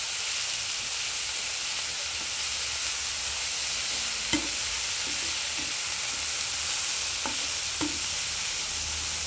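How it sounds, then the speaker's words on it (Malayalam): Curry leaves and a tomato sauté in a pan with a continuous close sizzle and hiss, broken by a few soft scraping stirs, and nobody speaks. "അപ്പൊ ഒരു ഇതിലേക്ക് ലേശം കറിവേപ്പില, ഒരു തക്കാളി, എല്ലാം കൂടി നന്നായിട്ടൊന്ന് വയണ്ടി വരട്ടെ."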